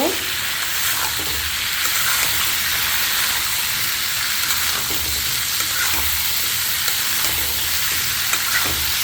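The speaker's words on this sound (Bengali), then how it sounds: "এখন আমি সবজিগুলো দিয়ে দিব সাথে তরকারিগুলো দিয়ে আমি আবারও নাড়াচাড়া করে দেব" Vegetables are stirred into a frying spice paste while cooking a large koi fish curry with sponge gourd, giving a steady loud sizzle with scraping stir strokes throughout.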